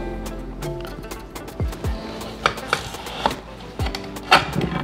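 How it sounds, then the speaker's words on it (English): Knife cutting potatoes into chunks on a board, a string of irregular knocks and taps, close and fairly loud, with a few sharper chops toward the end. "I'm just gonna cut them down a little bit, cut them into a couple chunks."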